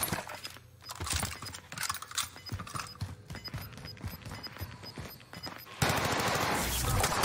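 Gunfire in a Rebirth solos shooter game comes as rapid irregular bursts of sharp shots. A louder, denser noisy stretch takes over near the end.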